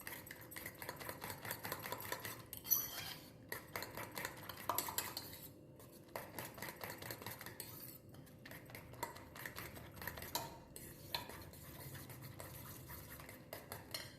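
Eggs being beaten for a prawn omelette, a fork or spoon clicking rapidly against the bowl in quick rhythmic bursts with a few short pauses, close and clear with no talking.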